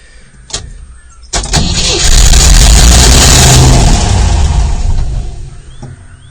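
A V8 Land Rover engine is cranked nearby: a click, then a loud, sustained whirring crank with ragged firing that catches briefly and never settles into running before it fades out.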